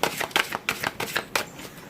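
Oracle cards being shuffled and drawn from a deck, a quick run of crisp, close papery flicks and snaps in an uneven rhythm, with no talk over them.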